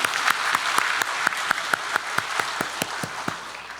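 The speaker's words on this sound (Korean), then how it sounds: "십자가에 돌아가신 우리 예수님께 감사 박수 올려드리겠습니다" A church congregation at a Sunday service in Daegu claps steadily together, a dense, loud wash of applause with no speech over it.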